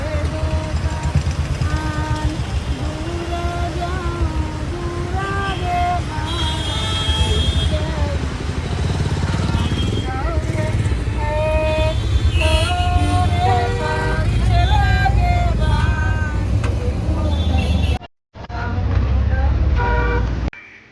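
Small trucks and vans carrying people to the ghat for Chhath Puja in Kolkata, engines rumbling amid repeated horn toots and traffic noise, with voices and festive singing mixed in throughout.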